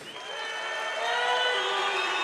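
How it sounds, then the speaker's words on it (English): Crowd at a SENSHI 30 Grand Prix kickboxing event cheers in a broad roar that swells and holds steady, heard from within the arena. "Now, Ernesto, listen to the crowd."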